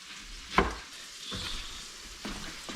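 Sliced peppers frying in a pan, a steady soft sizzle with a couple of brief louder crackles and scrapes, close and alone without any voices.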